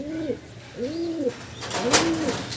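Caged pigeons coo in three clear rolling phrases, each rising and falling, close by with a steady background hum and a brief sharp noise near the end.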